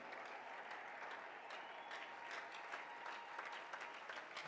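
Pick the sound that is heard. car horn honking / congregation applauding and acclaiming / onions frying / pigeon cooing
congregation applauding and acclaiming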